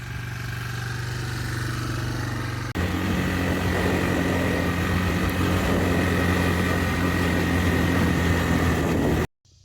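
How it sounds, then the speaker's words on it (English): A three-wheeler's engine runs steadily while riding, a loud continuous drone with a strong low hum that jumps up in level partway through, then cuts off abruptly near the end. "Let's go for a ride on the 3-wheeler,"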